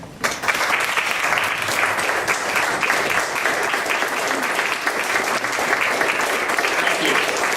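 An audience applauds to welcome David Gabler at a foundation event, a dense, steady wash of clapping that starts abruptly and holds loud and even throughout.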